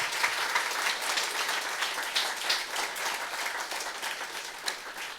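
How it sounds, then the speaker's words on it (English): An audience at the Taejae University matriculation ceremony applauds, a sustained round of many hands clapping in a hall at moderate volume, continuous throughout without a break. "let's give them one more big round of applause"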